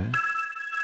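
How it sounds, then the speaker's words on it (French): A telephone rings in the background at someone's home, a single steady electronic tone that starts abruptly after a brief low thump and holds evenly for under a second, fairly loud and with no talk over it. "Un téléphone qui sonne derrière."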